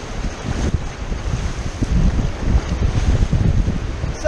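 River whitewater churns and slaps against a raft amid continuous rushing wind buffeting the microphone, a low rough rumble throughout.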